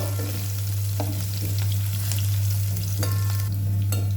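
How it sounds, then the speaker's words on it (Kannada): Green chillies sautéing in a pan over a low flame for sabudana usli, a steady close sizzle with a few soft stirring scrapes and a constant low hum underneath. "ಇದನ್ನು ಲೋ ಫ್ಲೇಮಲ್ಲಿ ಒಂಚೂರು ಬಾಡಿಸ್ಬೇಕು"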